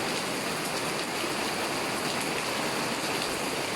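A downpour in Kharian, just begun and already pooling water, roars as a constant broadband wash of rain, close and unbroken, with no one speaking.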